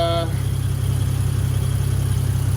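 A Toyota Aristo's 2JZ-GTE VVTi engine idles on a cold start, giving a steady, even low rumble that is close and continuous, with a brief tonal chirp at the very start.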